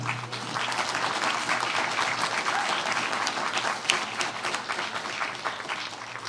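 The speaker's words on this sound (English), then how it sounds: "please clap" An audience at a talk on Aditya Natraj's dance gives sustained, full applause, a thick wash of many hands clapping steadily for several seconds with little voice over it.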